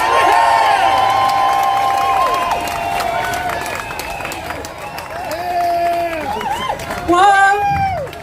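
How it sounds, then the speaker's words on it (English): A large outdoor crowd at a political rally in Parliament Square cheers, whoops and claps loudly as a speaker is introduced, a sustained roar with shouts rising and falling and a burst of whistles near the end. "please start clapping, please start cheering, please go mad for the brilliant Caroline Lucas"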